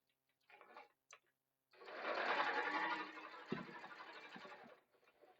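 A sewing machine stitches a 3/8-inch seam along a backpack edge, its steady mechanical whir running for a few seconds after brief starts, close and fairly loud.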